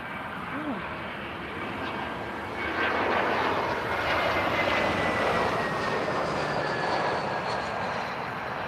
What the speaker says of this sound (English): That is an A321 with livery that says nothing.